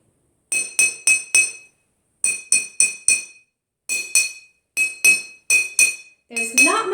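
Glasses, one holding a little water and one empty, struck for a homemade xylophone: four bright ringing taps, a pause, four more, then two further sets of four, each tap clear and close with short decaying ring.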